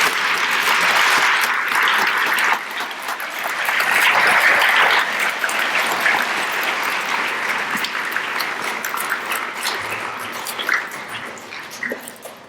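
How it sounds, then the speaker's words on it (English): Loud applause from students and guests at a middle school Veterans Day assembly, honoring the veterans present, continuing for about twelve seconds with a brief dip and slowly thinning toward the end. "if we can have a round of applause for all of our veterans."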